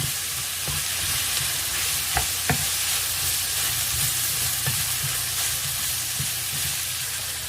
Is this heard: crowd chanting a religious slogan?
no